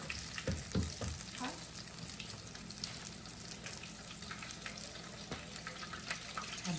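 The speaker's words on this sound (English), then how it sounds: "we're just going to let these fry up again until they're golden brown" Battered cod pieces frying in hot oil, a steady close sizzle and crackle with a few brief louder pops and utensil clinks near the start, continuing without speech.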